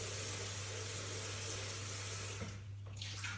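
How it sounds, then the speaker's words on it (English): Running water rinsing out a Blendtec blender container, a steady close rushing flow from a tap with a low hum beneath, shifting and thinning near the end as the container moves. "I just need to rinse this bucket around."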